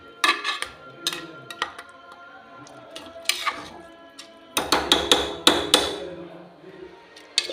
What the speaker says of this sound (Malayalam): ഇതെല്ലാം കൂടെ ഞാനൊന്ന് മിക്സ് ചെയ്യട്ടെ